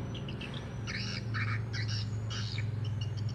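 Swiftlet lure call recording, known as rambut lembeh, played inside a seven-month-old swiftlet house: repeated bright chirping squawks in short bursts over a steady low electronic hum.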